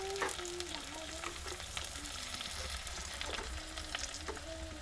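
Vegetables frying in a pan while spices such as salt, turmeric and coriander-cumin powder go in, with a steady sizzle under repeated scraping and stirring strokes of a spoon against the pan.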